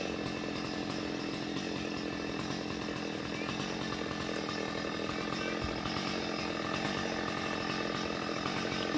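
A chainsaw cuts a dead kapok tree, running steadily and loudly throughout with a constant buzzing drone and no pauses.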